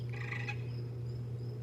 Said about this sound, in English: I tell them I have a gigantic woodpecker back there